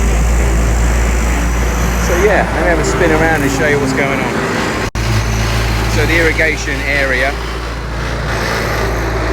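Bobcat skid-steer loader engine at work on a beach house building site in Barbados, a steady low rumble running the whole way under someone talking close to the microphone.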